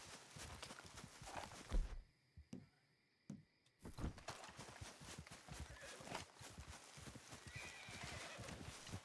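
A horse in the game Red Dead Redemption 2 whinnies and clops its hooves in a busy, continuous stretch that breaks for a moment before the trotting resumes, fairly close and loud.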